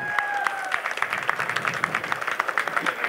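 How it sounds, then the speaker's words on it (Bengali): An audience claps in a light, uneven patter of hands at moderate distance, with a brief tonal whistle or feedback tone at the start. "একটা হাততালি দিয়ে জানানো যাক।"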